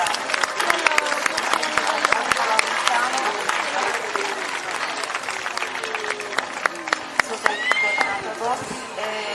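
An audience at a horse show in Oristano, Sardinia, applauds steadily with a dense, continuous patter of clapping under an announcer's voice and crowd murmur.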